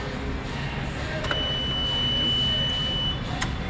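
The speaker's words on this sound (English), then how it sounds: "put it forward, you'll actually hear that beep. It's actually telling you it's not engaged" A CAT-Mitsubishi FBC18N 3,500 lb electric forklift sounds its parking brake alarm, a thin continuous high beep held steady for most of the clip over a low hum, with a couple of brief clicks.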